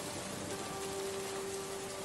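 Steady, soft rain hisses evenly through a quiet scene of the visual novel The House in Fata Morgana, with a thin sustained tone running beneath the downpour.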